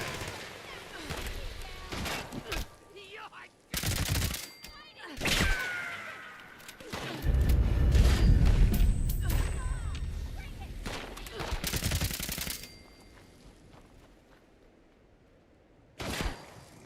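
Gauss minigun gunfire in Fallout 76 comes in several loud, sharp bursts separated by quieter gaps, mixed with heavy rumbling impacts and other game sounds, with voices talking between the shots.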